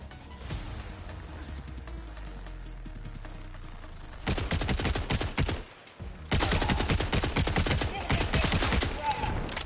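Borderlands gunfire, with bursts of loud, rapid shots and sharp ricochets coming in two dense volleys after a quieter stretch of game music and rumble.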